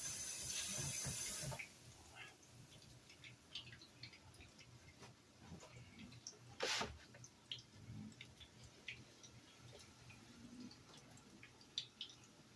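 In a home kitchen while making chicken croquettes, hands are washed under a running tap, a brief soft gush of water that stops after a second or two, followed by faint clicks and small handling sounds.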